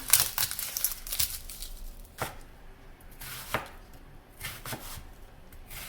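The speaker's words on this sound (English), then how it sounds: "you can start cutting your vegetables. I'm going to do 1/2 of a white onion" A knife chops through half a white onion on a cutting board for Cajun chicken and sausage gumbo, with sharp, distinct cuts at an uneven pace, close and fairly loud, alone.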